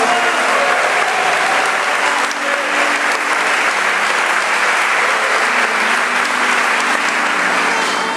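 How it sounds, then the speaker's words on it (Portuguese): Sustained applause from a large church congregation, steady and loud throughout, with no talking over it. "aplauda ao Senhor e diga palavras de adoração"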